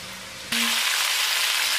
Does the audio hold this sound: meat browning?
yes